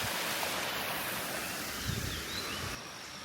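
Steady broadband rush of water running down nearby in Madakumbura village, Sri Lanka, like a stream, continuous and fairly quiet with no voices.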